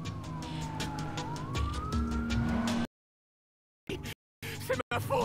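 Police sirens from the video game Watch Dogs wail steadily for about three seconds alongside game engine noise, then the sound cuts out, followed by brief bursts of scene audio.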